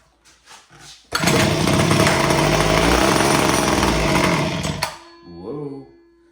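A Homelite H 17 hedge trimmer's small two-stroke engine sputters into life after a few pulls. It roars loudly and buzzes for several seconds, then drops away, and a voice follows.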